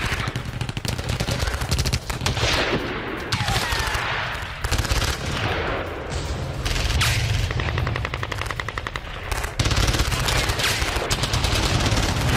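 Heavy automatic gunfire from a militant attack on security forces in Khyber Pakhtunkhwa, Pakistan, sustained bursts of machine-gun fire with dense overlapping shots running loud through the whole stretch, with brief lulls between volleys.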